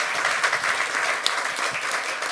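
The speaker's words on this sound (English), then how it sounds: "please applaud that" Audience applause at a talk on inclusive futures, a steady dense wash of many hands clapping at moderate loudness, filling the whole stretch without pause.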